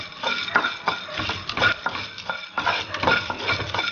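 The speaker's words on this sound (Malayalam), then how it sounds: "ഇത് നമ്മൾ ആദ്യമായി തന്നെ ഡ്രൈ റോസ്റ്റ് ചെയ്യുകയാണ് ചെയ്യുന്നത്." Kabsa masala whole spices, including coriander seeds, dry roasted in a pan without oil, a spatula scraping and stirring in steady repeated strokes with light dry rattling, close and moderately loud.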